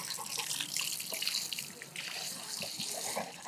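Water poured steadily over a dog during a bath at home while its hair is being trimmed; a continuous, close splashing and running-water rush without pause.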